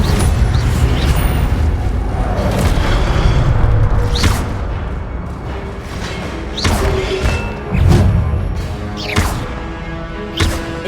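Incendio fire spell cast repeatedly in the video game Hogwarts Legacy, heard as several loud bursting whooshes and thuds over dense combat noise, spaced a few seconds apart.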